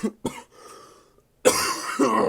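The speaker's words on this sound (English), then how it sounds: "if you hear me coughing" Two short coughs close together from a sick man, then a pause and a louder burst of harsh, throaty coughing or throat clearing, nearby.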